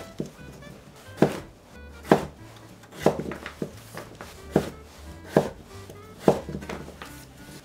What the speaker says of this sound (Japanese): 大根もいちょう切りにしていきます。